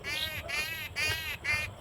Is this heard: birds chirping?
yes